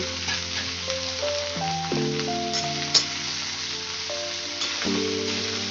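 Radish greens dropped into a garlic tempering sizzle loudly in the pan, a continuous close frying hiss broken by scraping stir strokes and a sharp clink, with no talking.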